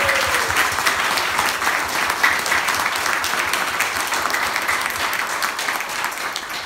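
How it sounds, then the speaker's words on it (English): Sustained applause from a large crowd at a worship night, steady and dense clapping throughout with no pauses. "So, big round of applause."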